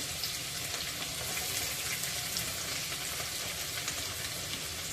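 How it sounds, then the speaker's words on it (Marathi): Dense, even sizzling and crackling of chopped onion frying golden in oil, continuous and fairly close, with no voices. "मी इथे कांदा फोडणीमध्ये चांगला गोल्डन फ्राय करून घेणार आहे"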